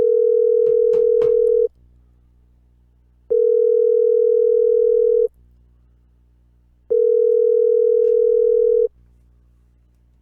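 An unanswered phone call ringing out, three long even ringback tones separated by pauses, clear and close, with a brief bit of voice over the first ring.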